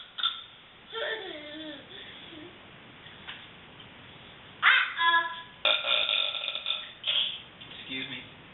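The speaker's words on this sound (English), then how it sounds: "Burp." A person burps several times, the belches loud, close and raspy, coming in short bursts separated by quieter gaps.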